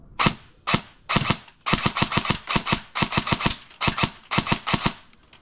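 Airsoft gun firing in bursts and rapid strings of sharp snapping shots, loud and close, with short pauses between volleys and no talking.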